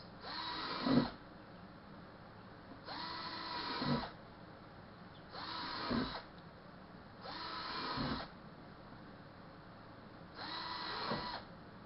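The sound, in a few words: power drill drilling holes in plastic tote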